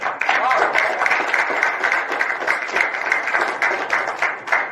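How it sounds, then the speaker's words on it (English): Applause from a small family gathering at a harmonica players' memorial event in Baroda, a steady patter of clapping lasting several seconds with some voices mixed in. "This requires an applause."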